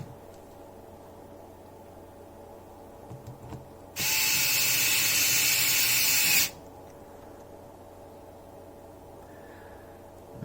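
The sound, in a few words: screws being driven into a Galaxy A54 phone frame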